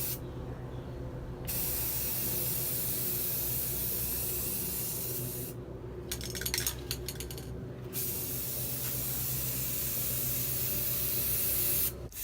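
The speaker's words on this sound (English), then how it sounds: "On the third coat, you want to spray it on a little bit more wet, but don't overdo it." Aerosol spray paint hisses onto a G35 grille for gloss black, in long bursts of a steady close hiss with brief pauses between passes.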